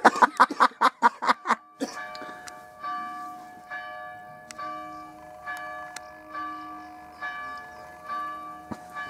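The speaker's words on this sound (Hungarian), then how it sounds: "Már 6 perce harangoznak." Church bells ring out repeatedly, opening with a quick run of loud, rhythmic strikes, then settling into slower, overlapping peals with long ringing tones, fairly close and alone.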